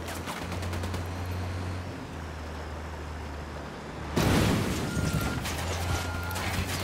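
Gunfire rings out in the video game Ghost Recon Wildlands. Sparse sharp shots come first over a low steady hum, then a louder, denser burst of shooting continues to the end.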